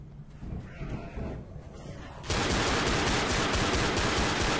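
Rapid automatic gunfire from the zombie shooter Left 4 Dead erupts halfway through and continues loud and dense, after a quieter stretch of scattered in-game shots and ambience; no talk over it.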